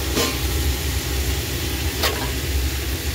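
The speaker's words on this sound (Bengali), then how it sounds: "এবার আমি গোটা পেঁয়াজ দেবো।" Small onions cut into quarters go into hot oil for a vegetable soup: a loud, dense, continuous sizzle and hiss filling the whole moment, close up and steady.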